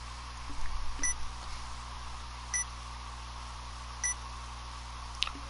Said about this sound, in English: Strange beeping sound broke Minorikawa out of his writing revere.